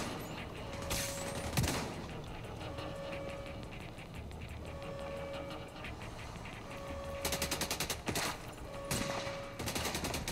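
Sniper gunfire in The Division 2 during a Black Tusk invasion at Tidal Basin, several sharp shots cracking at intervals over a busy firefight background, some bursts clustered together.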